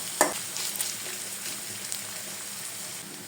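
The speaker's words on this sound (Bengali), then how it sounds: "এখন আমি এখানে পেঁয়াজ কুচি আর আস্ত 2-3 টুকরো রসুন দিয়ে দিলাম" Chopped onion and two or three whole garlic cloves fry in oil in a pan for mustard egg curry, a steady, close sizzle with a sharp hiss as they go in and light stirring.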